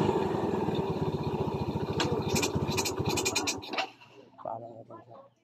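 A motorcycle engine runs with a steady, close throbbing idle, then cuts out abruptly after the gear change pedal is pressed and stalls, leaving only faint scattered noises.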